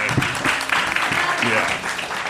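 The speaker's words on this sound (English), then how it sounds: "give him a round of applause, you guys" A crowd claps steadily in a dense wash of applause, with voices and a few whoops mixed in.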